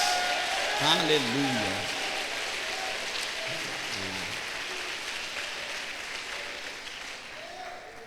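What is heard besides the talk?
audience applause in church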